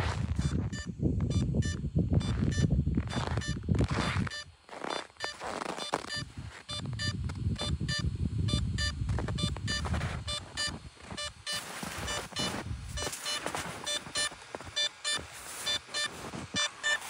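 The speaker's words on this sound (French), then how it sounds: "je peux zoomer la carte et demander de faire clignoter et émettre des bips au drone" A DJI drone emits locator beeps, a string of short high-pitched bleeps repeating at a steady pace against rustling outdoor background noise, faint and continuous through the clip.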